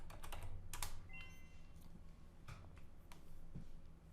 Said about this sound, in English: I'll be the first one to type it in.